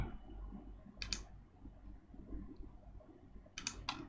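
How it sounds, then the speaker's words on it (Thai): Mouse clicks while objects are placed in SketchUp, heard as a single click near one second and a quick pair near the end, faint and close over low room noise. "ผมก็นำไปวาง คลิกวาง คลิกวางนะครับ"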